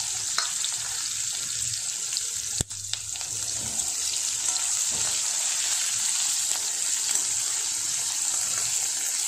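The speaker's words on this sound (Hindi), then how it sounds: "प्याज को हम लाइट ब्राउन होने तक फ्राई होने देंगे।" Onions frying in oil in a pan, alongside a dried red chilli and bay leaf, over a medium flame: a constant, close, bright sizzle with a single sharp knock partway through.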